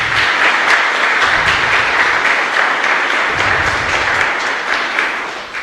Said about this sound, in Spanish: Les pido un fuerte aplauso para ellos.